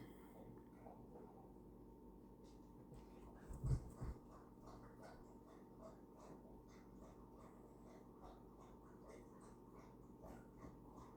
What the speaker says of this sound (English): You probably hear my dog getting a drink of water right now.